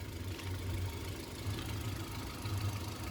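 A used car's engine idles quietly and steadily, a low, even hum with a slight rhythmic pulse and no revving, heard close and alone.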